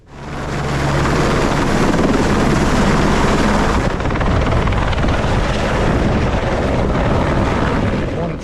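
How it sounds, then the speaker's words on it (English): A helicopter flies along the Everest Base Camp trekking trail, its rotor and engine roar loud and steady throughout, with a low rhythmic thump early on that fades as it passes. "The only thing that's modern transport is, of course,"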